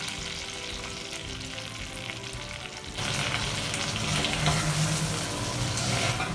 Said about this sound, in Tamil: இப்போ நம்ம நல்லா கடுகு கருவேப்பிலை நல்லா நம்ம பொரிஞ்சிருச்சு